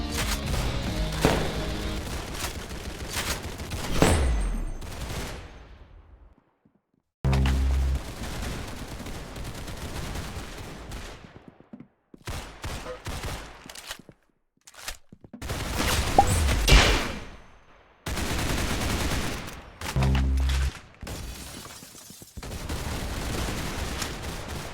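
Rapid bursts of gunfire from the Roblox shooter Arsenal crackle in repeated volleys, broken by brief silent gaps, with loud sustained automatic fire alternating with shorter sharp shots.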